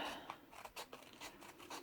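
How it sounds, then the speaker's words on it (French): Small scissors snip repeatedly in quick, light cuts through blouse fabric, close and quiet, with a soft rubbing sound between snips. "je fais avec ces petits ciseaux"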